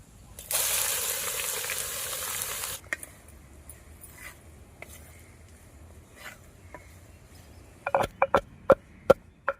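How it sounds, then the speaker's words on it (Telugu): Cashews and chopped onions hit hot oil in a farm-style kitchen, a loud hiss for a couple of seconds that fades to a soft crackle, followed by a string of sharp knocks near the end. "జీడిపప్పు వేపుకుందాం తరిగిన ఉల్లిపాయలు వేసుకుందాం"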